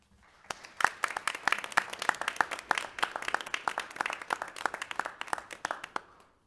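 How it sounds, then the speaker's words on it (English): A modest audience at a school board meeting claps, with sparse individual claps building into steady applause, fairly close, then stopping abruptly. "Another round of applause for both schools"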